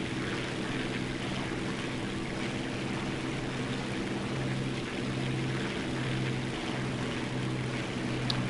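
Steady propeller aircraft engine drone in flight in the War Thunder video game, a continuous loud hum with low harmonic bands and broad airflow noise throughout.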